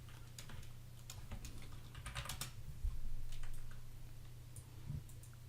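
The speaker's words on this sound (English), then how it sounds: "So I'm going to type minus 24 here." Quick, light keystrokes on a computer keyboard as a value is typed in, with a short irregular run of clicks over a low steady hum, close and quiet.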